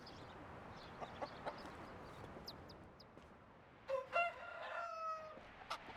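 Roosters in the medieval life-sim game Medieval Dynasty, giving a few short clucks and calls over a low, steady game ambience near the end.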